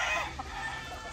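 An American-breed rooster gives a short, faint clucking crow, a single brief call at a distance.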